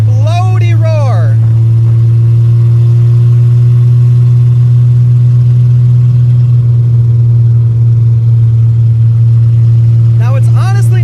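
A 1970 Mercedes-Benz 250 engine roars through open headers with no exhaust, a loud, deep drone at a constant pitch, a harsh rumbling roar filling the whole stretch, with brief higher squeaks at the start and end.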